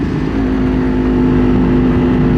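Kawasaki Ninja 500 motorcycle accelerating at part throttle, a steady close engine drone with a strong low hum that climbs slightly in pitch, no voices.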